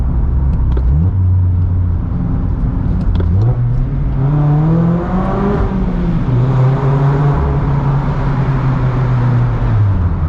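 Several Mazda Miatas downshift inside a tunnel, engines blipping and rising in pitch repeatedly before settling, loud and echoing, with exhaust notes layered close by throughout.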